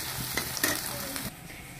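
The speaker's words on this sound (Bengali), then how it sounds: "এই যে পেঁয়াজ কুচি আর কাঁচামরিচ কুচি দিয়ে ভালো করে নেড়ে চেড়ে একটু ভেজে নেব।" Chopped onion and green chili sizzle steadily in hot oil for a fish curry, with a few soft scraping stirs of the spoon rising above the close, constant frying hiss.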